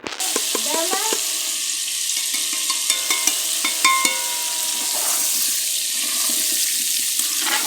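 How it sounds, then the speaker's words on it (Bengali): Potato pieces frying in hot oil with turmeric and salt, giving a loud steady sizzle with scraping stir clatter near the start and a bright hissy wash throughout. "এই জন্য আলুগুলো একটু ভেজে নিতেছি হালকা হলুদ আর লবণ দিয়ে"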